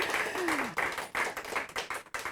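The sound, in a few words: studio audience applause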